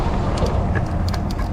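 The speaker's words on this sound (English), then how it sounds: "Let me go over the overpass because there's gonna be a lot of car noise." Passing cars on a road near an overpass produce a steady, broad traffic roar, loud and continuous throughout the short stretch, with no voices.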